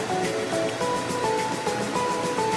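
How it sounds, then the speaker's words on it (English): Water is poured into a simmering Filipino-Indian fusion chicken curry, giving a steady, close splashing and bubbling wash that lasts throughout with no talking. "You can also add in a little bit of water."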